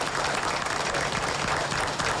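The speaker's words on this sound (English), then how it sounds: "I believe they deserve a rousing round of applause." A crowd gives a brief, dense round of applause, many hands clapping at once in a steady, even roar with no voices rising above it.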